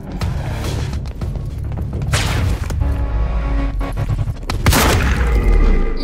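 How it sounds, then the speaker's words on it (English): A semi-auto shotgun fires in the video game Quantum Break, with heavy booming blasts over a dense, loud bed of game action, including a sharp shot near the middle and a stronger burst toward the end. "A semi-auto shotgun."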